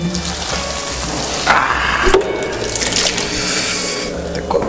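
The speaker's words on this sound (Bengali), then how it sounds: "কড়াইটা এখন পরিষ্কার করে নেব।" Tap water runs steadily while a used kadai is rinsed and scrubbed after cooking meat, with a few louder splashes and scraping bursts partway through.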